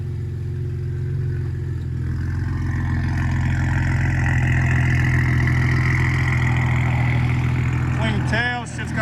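A BMW N54 engine fitted with 19t V4 turbos runs loud and close with traction control off, a sustained engine roar that builds in pitch and then drops near the end.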